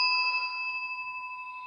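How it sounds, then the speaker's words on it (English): A Tibetan ritual bell has just been struck and rings on alone with a clear, sustained metallic tone that slowly fades. "Of course, we have our secondary bell."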